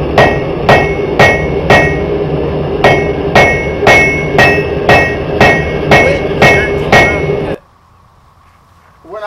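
A mechanical power hammer forging a knife blade in a bladesmith's shop, about a dozen loud, evenly spaced ringing metallic blows that stop abruptly, followed by a faint hum.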